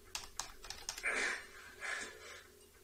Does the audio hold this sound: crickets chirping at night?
no